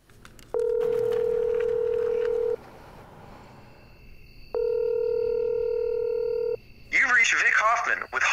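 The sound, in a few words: telephone ringing before an answering machine picks up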